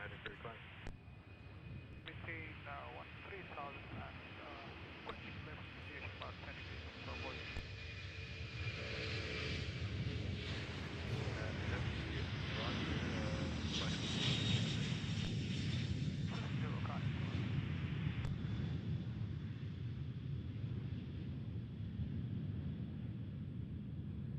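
An airliner rolls down the runway for takeoff at CVG airport, its engine roar building steadily from a distance into a loud, sustained rumble with whine, while a voice talks early on.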